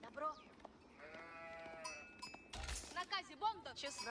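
Sheep bleating in the real-time strategy game Age of Empires 4, a few wavering bleats over game ambience with clinking, busy sounds and a loud burst midway.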